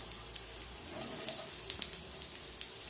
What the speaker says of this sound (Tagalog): magluluto muna ako ng ating sibuyas